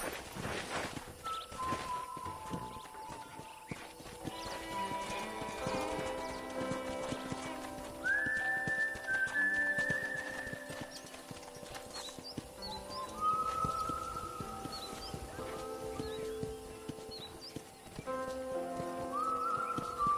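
Horse hooves clip-clopping at a steady walking rhythm in Red Dead Redemption, close and continuous for about twenty seconds, with occasional brief whinnies and other ambient game sounds around them.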